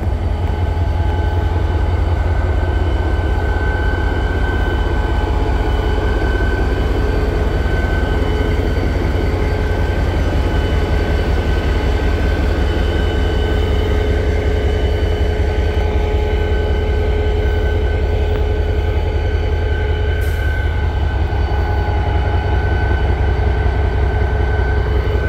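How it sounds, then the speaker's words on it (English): A diesel locomotive engine runs at a railway museum's Diesel Days event, a loud, steady, close drone with humming tones that holds without change for the full length, with no talking. "So, another very cool locomotive."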